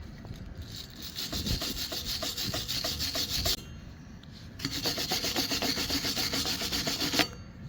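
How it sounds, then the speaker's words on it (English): Scraping flux off a fresh flux-core weld bead on a homemade skid steer boom attachment, two bursts of rapid rhythmic metallic rasping separated by a short pause, close and loud with no talk. "We're going to scrape off the old flux wire"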